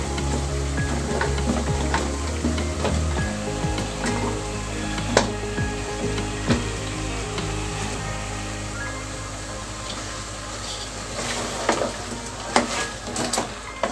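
Cauliflower frying and being stirred in a pan for vegetable biryani, a steady close sizzle with scraping spoon strokes and occasional clinks against the pan, no voices.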